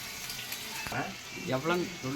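Chicken pieces frying in a pan until golden brown during late-night home cooking, a soft sizzle with stirring under a person speaking.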